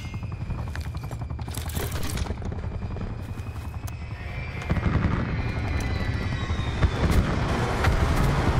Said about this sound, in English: Heli in the back.